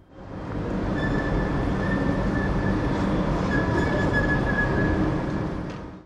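A Siemens Velaro E320 high-speed train rolls past close by with a steady loud rumble and a faint high whine, fading in and out at the ends.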